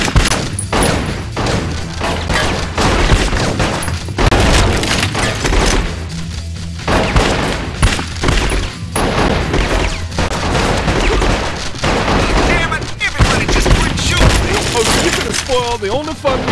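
Gunfire in the video game Bad Boys 2: Miami Takedown, dense rapid bursts and thuds running loud and continuous throughout, mixed with game voices shouting.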